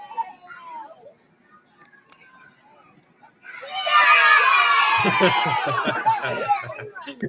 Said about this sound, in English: let's enjoy these elementary school children cheering on this construction worker